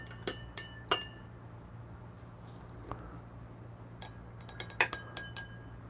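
Pour-over coffee being stirred, a spoon tapping and clinking against a glass vessel in short bright bursts, a few strikes early, then a quick run of clinks near the end, over quiet background.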